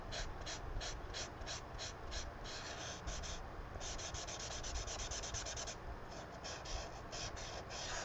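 Chisel-tip marker coloring on paper in an adult coloring book, close rhythmic scratchy strokes rubbing back and forth in quick repeated bursts, quiet and continuous.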